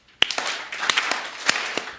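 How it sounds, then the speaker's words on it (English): Three sharp hand claps, spaced roughly half a second apart, close by, with a few fainter taps in between. "be gone, and you clap 3 times."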